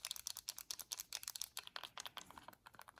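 Clicky buttons on a Retroid Pocket 2 handheld are pressed in quick, irregular bursts of sharp, close plastic clicks, faint and with no talk.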